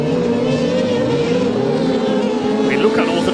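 Rallycross cars racing at Pembrey Circuit, with engines droning and shifting pitch in a continuous loud roar and a higher whine rising near the end.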